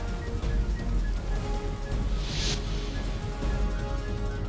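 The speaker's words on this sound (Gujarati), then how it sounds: "છેલ્લા 3 દિવસથી જિલ્લામાં અવિરત મેઘમહેર યથાવત." Continuous monsoon rain in Valsad district, Gujarat, makes a steady, dense hiss with no clear individual drops and no speech over it.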